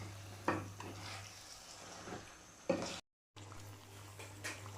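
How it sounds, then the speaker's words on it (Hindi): Chicken being stir-fried in a pan for aloo chicken, with a few separate scrapes of a spoon against the pan over a quiet sizzle and a low steady hum, briefly cut to silence, no voice. "मिक्स करेंगे और चिकन की भुनाई करेंगे अच्छी तरह"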